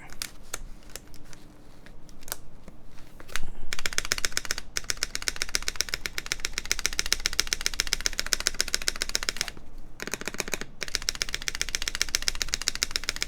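Fast, steady typing on a 60% mechanical keyboard fitted with MX Brown switches and DCS keycaps, dense clicky keystrokes close up with a couple of short pauses.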